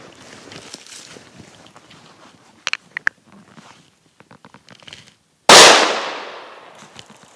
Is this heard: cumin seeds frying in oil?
no